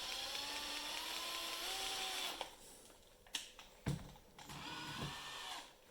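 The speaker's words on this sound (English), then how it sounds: "I gave in and used the drill." A small high-pitched rotary drill whines steadily for a couple of seconds while drilling a miniature model base, then stops, followed by a few soft knocks and scrapes.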